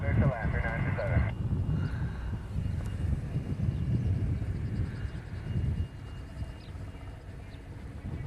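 An airliner lands on runway 4 right at Honolulu airport, its engines giving a steady distant roar under crackly air traffic control radio talk.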